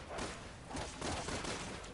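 Rapid gunfire from the video game Resident Evil 6, a dense burst of quick shots over about two seconds at moderate volume, with no speech.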